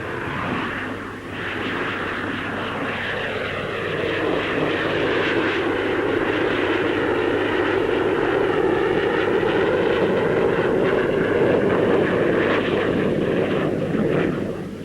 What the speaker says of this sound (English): Among the fighters on show is the two-seater radar-carrying Gloster Javelin.